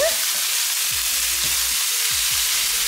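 Ingredients sauté in a pan before mushrooms go in, a loud, dense sizzle hissing continuously up close, with several soft scraping stirs recurring about every half second.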